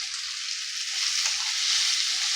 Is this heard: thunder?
no